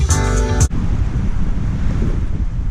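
Wind blows in the woods as a steady, rough, blustery rumble close to the microphone. It follows a short tonal sound at the very start.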